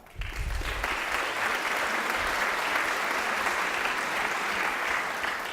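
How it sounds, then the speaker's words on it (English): A large TEDx conference audience gives a steady, sustained round of applause, dense and even throughout without fading, with no speech over it. "Give yourselves a round of applause"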